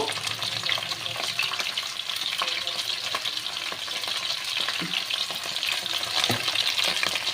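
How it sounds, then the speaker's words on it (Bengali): Potato and cauliflower pieces fry in hot oil, a steady, dense sizzle with crackling pops and occasional stirring scrapes, close and continuous throughout. "আলু আর ফুলকপিগুলোকে তেলের মধ্যে ছেড়ে দিলাম এটাকে ভালো করে ভাজা করে নেব"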